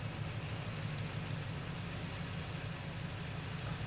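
A motorcycle moves slowly along an alternative route near the Cikarang Utara toll gate, its engine giving a steady, continuous low hum with a constant rumble throughout and no talking.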